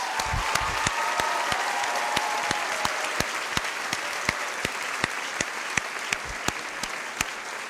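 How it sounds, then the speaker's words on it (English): Round of applause from a graduation ceremony audience, a steady wash of many hands clapping with distinct near claps popping out at a regular pace, fairly distant. "So if everyone can give her a round of applause."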